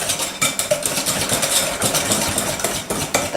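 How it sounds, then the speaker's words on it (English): A bar mixture with melted butter being stirred in a bowl, with steady scraping and clinking of a utensil against the bowl, busy and close throughout. "And we are going to mix that well."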